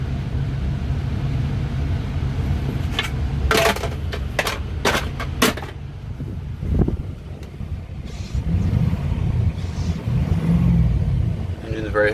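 A 2007 Ford F-250 4WD Lariat with the 6.0L Powerstroke diesel and 164K miles idles with a low, steady rumble, while someone talks over it and a few sharp clicks and knocks pop in between.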